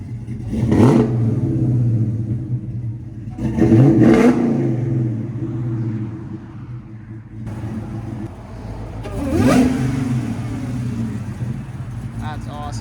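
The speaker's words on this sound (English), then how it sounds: "The whine of the supercharger." A cammed Dodge Charger Hellcat with a stage 3 cam, headers and a Flowmaster 40 Series exhaust gives three sharp, loud revs close by over a choppy idle, with supercharger whine and voices talking between revs.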